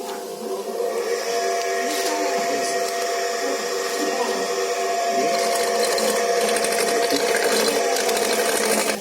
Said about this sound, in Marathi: ते असं खोबरं किसलं त्या मशीनने